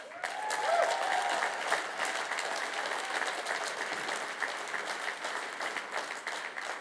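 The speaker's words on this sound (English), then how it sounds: "People clap there too" Audience applause fills a hall at a San Diego housing talk, a steady wash of many hands clapping at moderate volume that holds evenly throughout with no voices on top.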